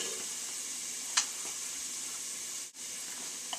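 Fresh basil dropped into hot garlic oil in a pan off the flame for marinara sauce, giving a steady, fairly quiet sizzle and hiss throughout with a couple of brief sharper crackles.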